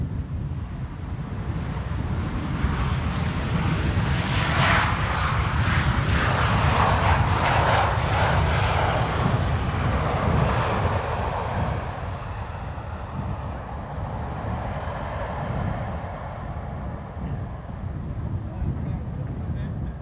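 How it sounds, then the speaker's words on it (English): A Boeing 767 on approach to land at Amsterdam Schiphol on a sunny, crosswindy day, its engine roar swelling and then slowly fading, with wind buffeting the microphone throughout. "Should make for some nice entertainment until the 767 is landing here"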